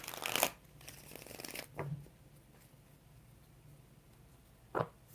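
Two short bursts of tarot cards riffling and shuffling, one at the start and another near the end, with quieter shuffling and handling between them.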